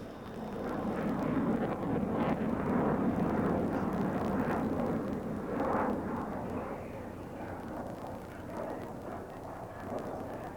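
A Mirage 2000-5 jet fighter flies at the 1990 Farnborough Airshow, its engine a broad, rumbling roar that swells over the first seconds and then slowly fades at a distance.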